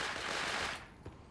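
Rapid SMG fire from the Fortnite video game rattles in a dense, loud burst, then cuts off into quieter game sounds with a single later crack.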